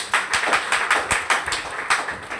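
An audience claps together in unison during a talk, producing a quick run of sharp, evenly spaced group claps, fairly close and with no voice over them.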